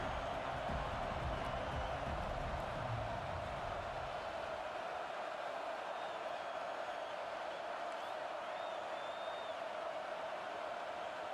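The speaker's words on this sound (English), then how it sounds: "here comes the noise. This crowd is trying to inspire this defense to make a big red zone stop." Stadium crowd roar in an American football video game during a red zone defensive stand, a steady dense wash of noise held throughout at moderate level, with faint commentary beneath it.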